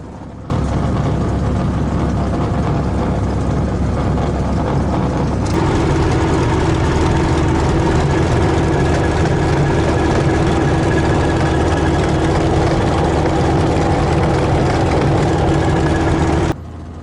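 Piston engines of WWII fighters, a P-51 Mustang alongside a Spitfire and P-40 Kittyhawk, idle steadily before takeoff, a loud continuous low rumble that rises slightly in pitch and strength partway through and holds to the end.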